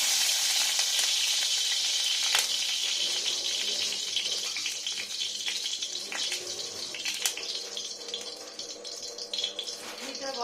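Cow's ghee heats slowly in a pan for semolina halwa, producing a steady, close, bright sizzling hiss that runs throughout and thins toward the end, with a few faint clicks and a person talking over it.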